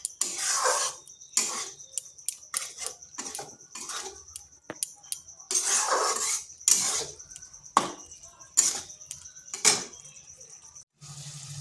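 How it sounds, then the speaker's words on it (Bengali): Spice paste frying and being stirred in a kadai for an egg bhujia, heard as repeated scraping and sizzling strokes of a spatula against the pan, close and fairly loud, coming in irregular bursts with quiet gaps between them. "এই মশলাটা কিন্তু বেশ কিছুক্ষণ সময়ভাবে এইভাবে ভেজে নিতে হবে।"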